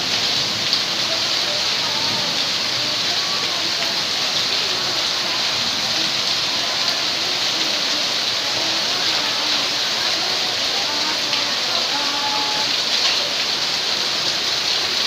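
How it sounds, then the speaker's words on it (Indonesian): Hail pours down in a storm with strong wind in Tasikmalaya, a dense, steady hiss of pelting ice and rain on surfaces with a few faint voices in the background. "hujan es ya Allah."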